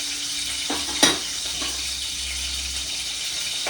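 Food roasts in a hot pan in a home kitchen with a steady close sizzle and frying hiss. A utensil knocks and stirs once or twice against the pan, and no one talks.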